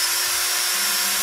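Power drill set to maximum speed for drilling, running as a steady, loud high-pitched whine with no break through the short stretch and no voices.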